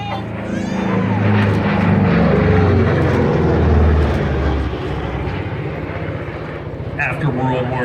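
A P-47 propeller aircraft engine roars loudly overhead, swelling and then slowly fading as it passes, while people, including a child, talk nearby.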